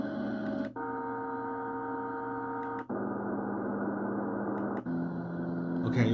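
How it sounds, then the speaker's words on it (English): A baby white noise machine with a night light plays a washing-machine setting: a steady, loud whirring drone with sustained hum tones, shifting pattern a few times, continuous throughout with no talk. "This is like a washing machine."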